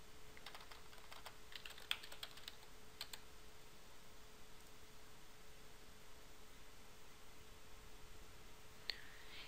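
A few quick bursts of typing on a computer keyboard enter a search term, faint scattered key clicks early on and one more near the end over a quiet hiss, with no voices.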